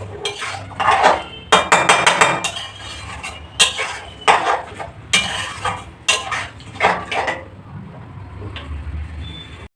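Spoon scraping and clinking in a pan as kosha mangsho, Bengali braised meat, is stirred, in irregular bursts of metallic scrapes with a soft sizzle underneath and no talking.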